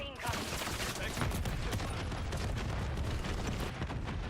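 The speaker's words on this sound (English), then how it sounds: "Grenade." A grenade blast in Call of Duty MW3 multiplayer merges into a dense, continuous wash of rumbling explosion and rattling gunfire that fills the whole stretch at steady loudness, with some voice mixed underneath.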